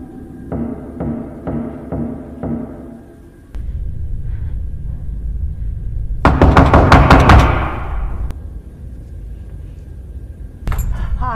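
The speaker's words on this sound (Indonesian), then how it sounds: "ada suara ketukan pintu dari arah kamarnya" Knocking on a door: four evenly spaced raps close by, followed by rumbling, a louder burst of noise and a final short thump.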